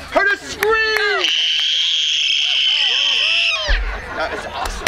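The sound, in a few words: audience imitating a scream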